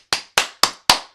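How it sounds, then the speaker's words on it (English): Five sharp hand claps in a steady rhythm, each a crisp close transient with a short decaying tail, recorded as a test before multitrack drum recording on an iPad with a mixer. "I'll clap a few times"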